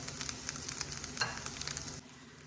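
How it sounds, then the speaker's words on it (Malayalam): Grated coconut roasting in a hot pan, a soft, close sizzle with rhythmic scraping strokes of a spoon stirring it, dropping quieter for the last moment. "തേങ്ങ നമുക്ക് നല്ലൊരു ഗോൾഡൻ ബ്രൗൺ ആവണം വരെ ഇളക്കി കൊടുക്കാൻ"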